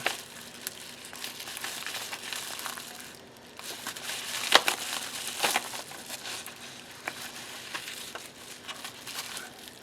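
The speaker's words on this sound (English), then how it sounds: "I'm going to open a little happy mail from Catherine" Paper and plastic packaging from a happy mail parcel crinkles and rustles steadily for about ten seconds, close and fairly quiet, with a few sharper crackles and tearing bursts as the envelope is opened.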